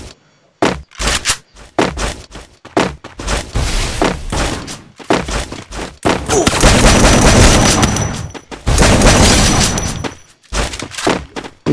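Gunfire rattles through a Lone Wolf shooter match: loud, close rapid shots in choppy bursts with brief gaps, then longer sustained automatic fire near the end.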